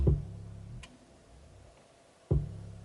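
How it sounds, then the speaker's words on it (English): Clean 808 bass with no distortion or limiter, made for a cypher hip-hop beat: two deep, booming low notes with a click on each attack, separated by a quiet gap, fairly soft and round. "Without distortion or the limiter on it, it sounds like this."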